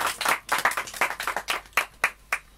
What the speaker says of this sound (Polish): dlatego brawa